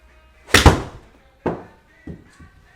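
Golf balls struck with a 7 iron, with three or four sharp close thwacks spaced about a second apart, the first loudest and the later ones fainter.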